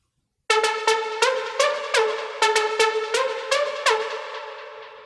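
Deep house synth lead from a preset pack, plucky bright notes with legato sliding between pitches, played as a short melodic phrase with a rhythmic stepped pattern, alone and upfront with a reverb tail.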